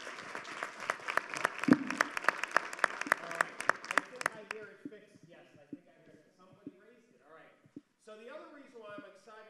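An audience at a real estate seminar claps for the board staff, a burst of loud sharp applause for a few seconds that fades out, followed by someone speaking.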